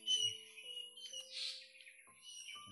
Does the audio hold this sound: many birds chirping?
yes